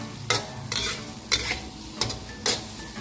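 Red shallots fry in oil on low heat in a pan, a constant soft sizzle close by, broken by regular stirring scrapes about every half second to second.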